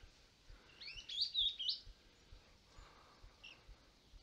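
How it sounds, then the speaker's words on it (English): Rainbow bee-eaters calling from a tree: a cluster of high, rolling chirps around the middle, fainter calls later, over low background rumble. "There's rainbow bee eaters in this tree."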